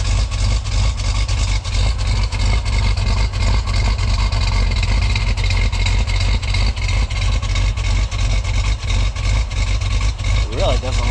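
A 1977 Jeep Cherokee Super Chief idles steadily with a rumbling exhaust note after a cold start, a constant low drone running close and loud throughout.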